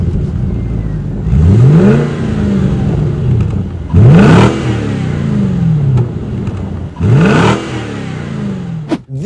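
A Volvo S80 fitted with a Yamaha 4.4 litre V8 revs hard three times, each rise in pitch climbing then falling back to a steady idle, loud and close with no talk.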